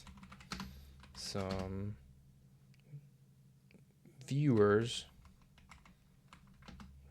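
Keyboard typing clicks sound faintly through a quiet late-night room, broken by two short bursts of someone speaking.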